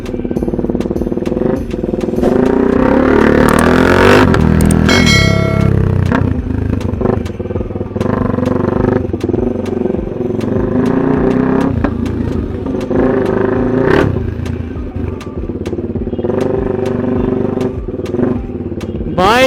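A KTM RC motorcycle with a full-system aftermarket exhaust revs hard and loud, close up, with repeated throttle blips and crackling pops over a steady rumbling idle, no talking.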